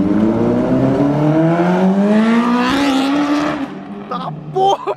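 Honda Fan motorcycle with a GRS Racing exhaust and a slapping chain, heard up close as a loud engine note that climbs steadily in pitch while accelerating, then drops off and blips again near the end.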